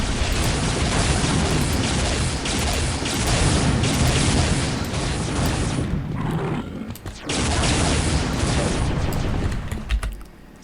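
Plasma cannon primary fire in Unreal Tournament 99, a dense, loud barrage of rapid bursting energy balls exploding almost continuously, with a brief lull near the middle before the volley resumes.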